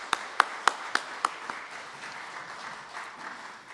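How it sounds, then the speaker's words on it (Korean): A church congregation applauding in praise, opening with several sharp, loud individual claps in a slow rhythm before settling into softer, steady group clapping. "귀한 찬양을 받으신 하나님께 감사와 영광의 박수 올려드리겠습니다"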